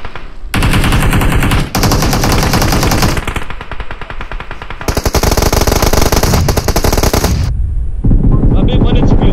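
Heavy automatic gunfire from a PUBG Mobile match on the Miramar map, loud sustained bursts and rapid volleys filling nearly the whole stretch with only brief pauses between them.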